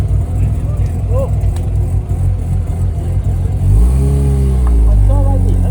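A bridgeported Mazda RX-8 rotary engine at a track day revs loudly up close with a rough, uneven note and rattling fault noise, climbing in pitch near the end while people talk nearby.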